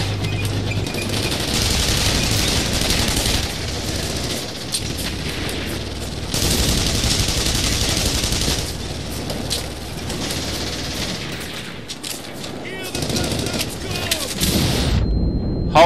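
A tank in The Saboteur video game fires amid sustained, loud gunfire and booming blasts, with dense rumbling noise filling the scene; a voice breaks in now and then.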